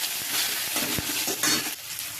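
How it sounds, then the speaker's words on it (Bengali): Bay leaf, dried red chili, whole cumin, tomato and ginger paste sizzle in hot oil while being stirred for dal, with soft scraping and clinks of a spoon against the pan. "আর এখানে একটু তেজপাতা, একটু শুকনো লঙ্কা আর গোটা জিরে একটু ফোড়ন দিলাম, একটা টমেটো দিলাম"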